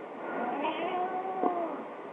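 A house cat lets out a hoarse, raspy meow close by, one stretched call followed by a shorter one, with no talking over it.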